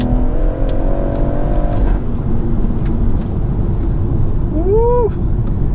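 Car accelerating hard from a standstill to 60 mph, engine note climbing loud through the gears with a shift break, then a brief tire chirp and fading roar near the end.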